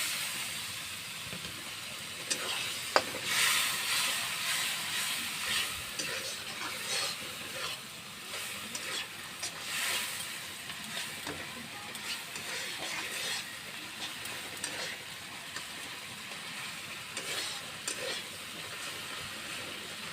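Soft steady sizzle and hiss of spice masala frying in a pan during vegetarian cooking, with faint stirring scrapes scattered through a continuous low hiss.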